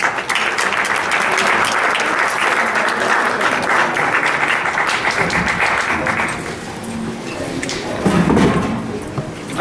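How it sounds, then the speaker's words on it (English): Audience at a Flint, Michigan arts event breaks into a sustained round of applause, loud and dense for several seconds before thinning out, with a few voices and some shuffling as it ends. "Please give a round of applause for Andrew Morton."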